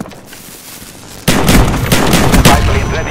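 Shotgun fire in Call of Duty Black Ops on the Havana map, a sudden loud blast followed by several sharp, close shots in quick succession over background game noise.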